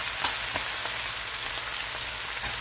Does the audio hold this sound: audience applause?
no